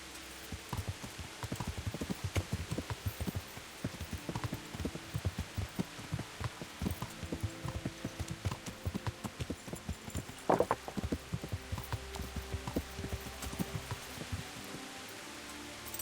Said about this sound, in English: There you are, horsey.